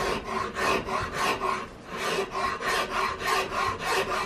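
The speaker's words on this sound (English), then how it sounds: "my right hand being the force behind the rasp, and this being kind of my guide" A wood rasp shapes the stock of an Investarms Gemmer Hawken rifle kit near the trigger guard inlet in steady rhythmic strokes, about two per second, each a coarse scraping rasp with brief pauses.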